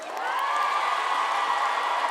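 A roadside crowd cheers and applauds the passing Olympic flame in a small town, with a steady, continuous wash of cheering and clapping and a high whoop riding on top throughout.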